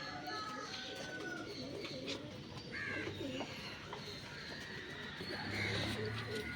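Pigeons kept for flying coo softly and repeatedly in a loft at a pigeon-chick sale in Pappanamcode, Thiruvananthapuram, with low murmuring calls overlapping against faint background noise.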